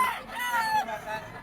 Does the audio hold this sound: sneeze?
no